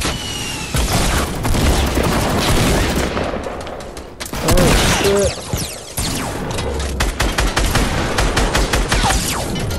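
Video game gunfire rings out in a fast fusillade of loud, sharp shots and booms, with a short lull in the middle before the rapid firing resumes close up.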